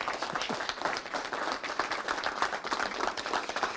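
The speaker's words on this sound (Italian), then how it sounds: "facciamo un applauso al Presidente" An audience at an Alpini association hall in Rossano Veneto applauds the president with sustained, even clapping from many hands, moderately distant and steady throughout.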